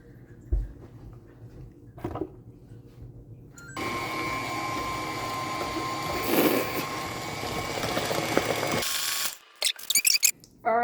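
A hand mixer beating eggs in a bowl in a kitchen, whirring steadily for several seconds with a brief surge, then cutting off into short bursts.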